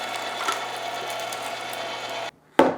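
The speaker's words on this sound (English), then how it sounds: "Now we're gonna throw it into the grinder on the coarse die setting." A meat grinder fitted with a coarse die runs with a steady mechanical whir while grinding cubed pork shoulder for sausage. The motor drones for about two seconds, stops briefly, and then a sharp knock follows.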